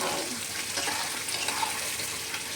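Food frying in a pan on a gas stove, chillies already added, a steady broadband sizzle running close and even throughout with no talk over it.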